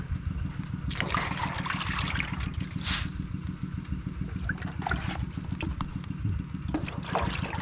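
Salt brine trickling and splashing during village salt boiling, a steady close flow of water over a constant low rhythmic mechanical throb, with a few brief louder splashes.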